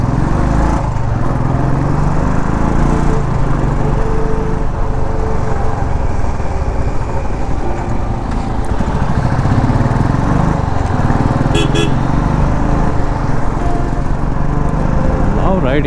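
A Royal Enfield Classic 350 motorcycle being ridden, its engine thumping loud and unbroken throughout with wind rush, and a voice talking over it.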